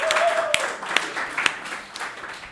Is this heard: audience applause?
yes